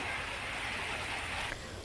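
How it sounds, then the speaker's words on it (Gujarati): Heavy monsoon rain falling over a village near Olpad in Surat district, a dense, steady hiss of downpour close by, without voices. "ઓલપાડ સહિતના ગામોમાં વરસાદ વરસી રહ્યો છે"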